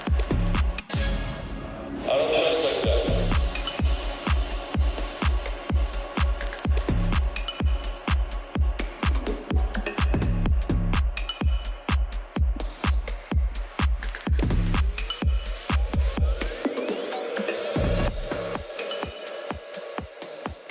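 Outro of an electronic dance track: a steady four-on-the-floor kick with layered synths runs loud and continuous, briefly dropping out near the end before resuming, with no voices.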